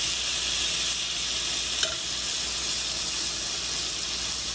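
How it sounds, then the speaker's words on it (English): Two steaks sizzling in a hot pan: a loud, continuous close-up hiss and crackle of frying fat, steady throughout, with a single faint clink midway. "You can hear that sizzle, right?"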